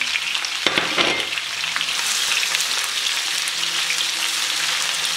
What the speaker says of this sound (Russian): Отправляем в сковороду лук.